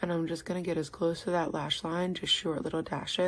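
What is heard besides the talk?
No everyday noise stands out behind the speech.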